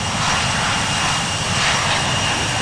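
Steady loud roar of airplane engines at takeoff rotation in the Infinite Flight game, a dense continuous rush with a faint high whine, unbroken throughout.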